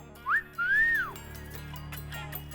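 A man gives a close, clear wolf whistle at a girl: a short rising chirp followed by a longer rising-and-falling tone, over a faint background hum.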